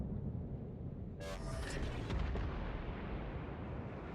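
A World of Warships battleship firing a shell salvo in the game, a sudden deep booming blast with a crackling burst that rolls into a heavy rumble over a low constant drone, loud and alone.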